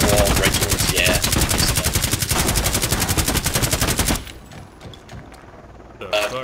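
Video game gunfire from Rainbow Six Siege sounds as a loud, rapid automatic burst that runs about four seconds and then cuts off to quieter clatter, and a short burst returns at the end.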